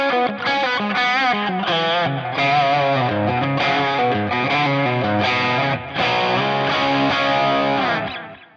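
A distorted electric guitar through Neural Amp Modeler with the bass cut for a vintage tone plays a run of sustained chords with a thin, mid-heavy tone and little low end, loud and continuous without any voices.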